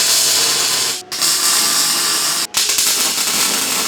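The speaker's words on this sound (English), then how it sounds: "get the welder out and start tacking this together" Continuous loud hissing buzz of a welder tack welding steel rock slider hoops for a 4x4, with two brief pauses between tacks.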